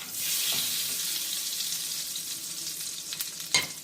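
Butter melting into bacon drippings in a pan over medium heat, a steady close sizzle and hiss with a couple of small pops, no voices.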